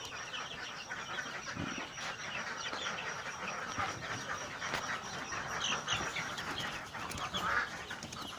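Four-week-old Hisex Brown laying hen chicks peeping and clucking quietly in a pen, a soft, scattered chatter of small calls at low level.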